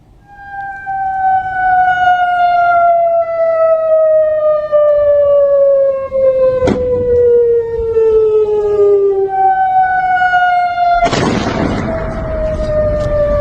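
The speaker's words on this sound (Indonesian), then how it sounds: "Sirine peringatan pun kembali meraung di Yordania" A wailing air raid warning siren sounds in Jordan, its long tone steadily falling in pitch for about ten seconds, with a sharp thud partway through and then a loud burst of broadband noise near the end.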